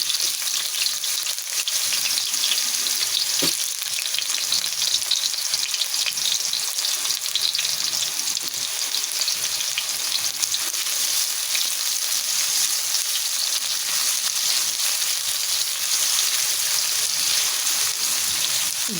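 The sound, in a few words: sautéing onion, ginger and garlic in a pan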